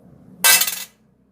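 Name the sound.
metal coin dropped onto a plate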